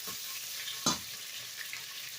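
Onions hit hot olive oil in a pan for pasta and peas, giving a steady close sizzle with a brief sharp clatter partway through and no talking.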